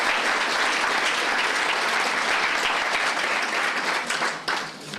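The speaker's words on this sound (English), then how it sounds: "a round of applause for everyone who received the certificates tonight" An audience at a childcare committee awards night in Roscommon applauds certificate recipients with steady, dense clapping that fills the room and tapers slightly at the end.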